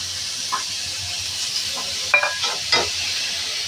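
Grated coconut fries in a pan with a steady hiss, broken by a few close scraping stirs of a spatula against the pan.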